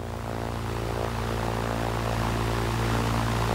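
A bush plane's propeller engine drones steadily in flight, a loud continuous hum with strong low tones and a rough propeller beat that stays even throughout.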